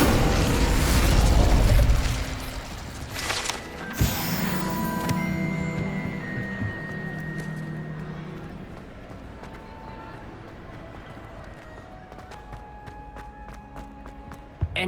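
Incendio fire spell cast in Hogwarts Legacy, a loud burst of flame and rumbling crackle opening the clip, then a sharp whoosh and bright magical shimmer that fade into quieter game ambience.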